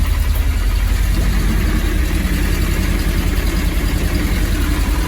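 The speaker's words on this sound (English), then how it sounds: "So it's getting a bit of rattling at the back there when I'm going up." Triumph TR7 engine running steadily up close with a constant mechanical drone and faint rattling from the back, no rev changes or talk audible.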